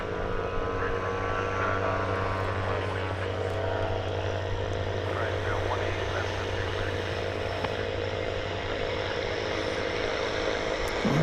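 An airplane takes off from DFW runway 18 left, a steady, moderately loud engine drone with a low hum running alone throughout.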